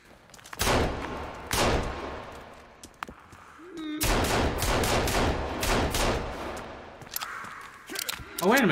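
Shotgun blasts ring out in the survival video game Sons of the Forest: a few loud, sharp shots spaced apart, then a dense burst of repeated reports, with brief gaps and game sounds between.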